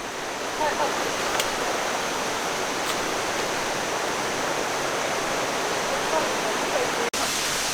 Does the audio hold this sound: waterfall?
yes